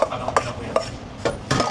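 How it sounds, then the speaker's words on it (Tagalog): Cooked black rice for sushi, with kombu, is stirred in a pot, giving four or five close, distinct scraping knocks of a utensil against the pot at an uneven rhythm, no voices. "haluin na natin"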